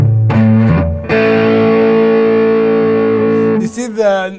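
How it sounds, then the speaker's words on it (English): Electric guitar: an SG's Entwistle HVN neck humbucker in series mode, through a Dual Fusion distortion stomp box on crunch with Grail spring reverb. A few low chugs, then one long ringing distorted chord that sustains and breaks off. "I'm going to play with crunch sound now using my dual fusion distortion stomp box"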